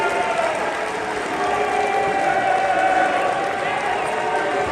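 Studio audience clapping and cheering, a dense steady wash of applause that holds for the full clip at moderate level.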